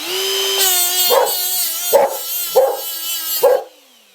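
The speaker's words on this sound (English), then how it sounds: "You're going to hear dog barking here." A steady whining die grinder with a Roloc disc runs throughout, cleaning scale off metal, with a dog barking four times at roughly even intervals, loud and close over the machine noise.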